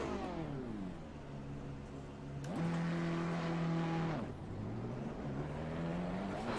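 A race car engine drones on track at Zandvoort in Assetto Corsa Competizione. The steady tone rises and falls through gear changes, climbs sharply under acceleration and drops back again, fairly quiet throughout.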